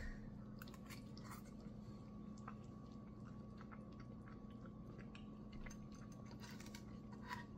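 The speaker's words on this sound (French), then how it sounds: "Première bouchée." Someone chewing the first bite of raclette, soft wet squishing and biting at close range under steady background noise, no talking.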